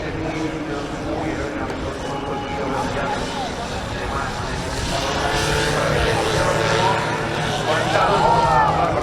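A Spanish Guardia Civil propeller aircraft flies past at an airshow, its engine drone swelling steadily louder from a distance while someone talks over it.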